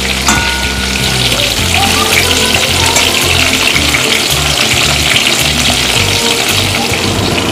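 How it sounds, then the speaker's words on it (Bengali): Potatoes frying in hot oil for Kolkata chicken biryani give a loud, steady, close sizzle and crackle that runs unbroken, with no voices over it. "আলুটা এখানে ভেজে নেওয়া হচ্ছে ভালোভাবে।"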